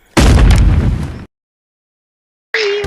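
A voice imitates a revolver gunshot with one loud, close, explosive burst that holds for about a second and cuts off abruptly into silence, followed by a brief bright sound at the end.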